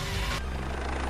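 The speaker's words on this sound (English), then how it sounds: "Helicopters airlift the first teams of rescuers up to the summit." A rescue helicopter airlifting teams to a summit during an emergency makes a brief, loud, continuous rotor drone, close by.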